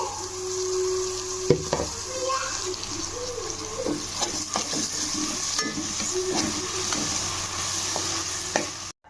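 Chopped capsicum and tomato cook down in a pan for dhaba-style paneer bhujiya, giving a steady close sizzle with scraping stirs and scattered utensil knocks; no one talks.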